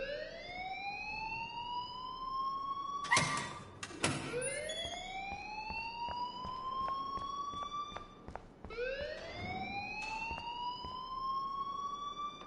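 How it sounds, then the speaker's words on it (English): An alarm in Life is Strange wails in rising, repeating sweeps, steady and fairly loud, broken by a couple of brief clatters, with no talking. "please turn off that alarm since that's your job"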